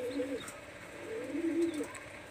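Pakistani high-flyer Teddy pigeons coo in two soft, rolling phrases close by, a low warbling call rising and falling with faint background noise.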